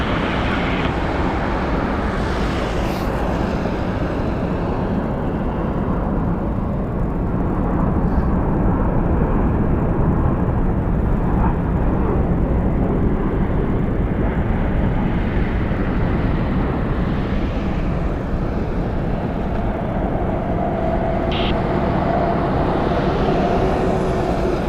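An airliner takes off from runway 1 right at Las Vegas, heard as a broad, steady jet roar that stays loud and even throughout, with wind buffeting the microphone.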